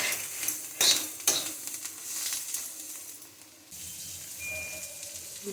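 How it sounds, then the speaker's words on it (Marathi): Green chillies roasting in a pan for Kolhapuri thecha sizzle with a few scraping, clinking stirs early on, then a steady quieter frying hiss; no voices. "मिरच्या अगदी खरपूस भाजल्यात"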